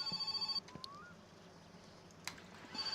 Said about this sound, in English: Oh, the phone is ringing, finally.